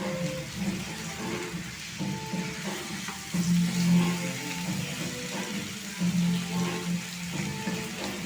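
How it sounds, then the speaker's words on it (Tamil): Chicken pieces fry in oil for a spicy North Indian style chicken gravy, a moderate bubbling sizzle with light clinks and stirring noises, heard close without talk. "எல்லா சிக்கனையும் அந்த எண்ணெயில் போட்டு"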